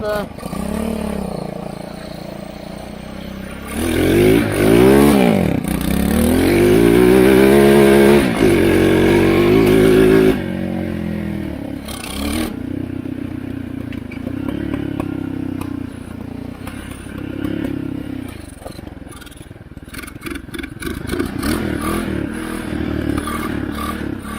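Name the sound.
old Chinese ATV engine starting and running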